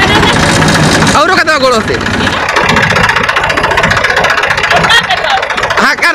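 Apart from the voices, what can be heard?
Eicher 480 tractor engine running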